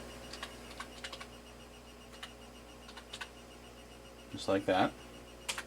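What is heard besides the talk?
typing on a computer keyboard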